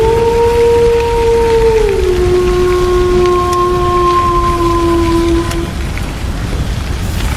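Heavy rain pours down steadily on a stormy night near a river, a dense wash of noise with a sustained tonal whistle gliding over it for several seconds before fading.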